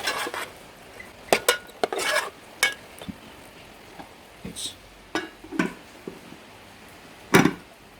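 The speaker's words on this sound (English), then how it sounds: "and follow with onions and carrots. So I'm gonna give a slight mix first." Onions and carrots are stirred in a pan for seafood fried rice, a utensil scraping and clinking against the pan in irregular sharp knocks over a faint sizzle.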